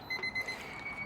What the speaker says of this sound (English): Now every alarm is going off.